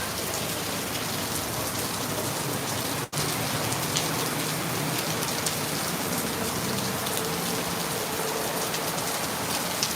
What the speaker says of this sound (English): still some heavy rain just falling here